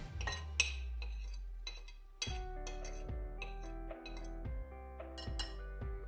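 Green mussels clatter and clink into a bowl as raw food is mixed for a German Shepherd, a quick run of sharp shell-on-bowl taps, close and fairly quiet, with a faint tonal background.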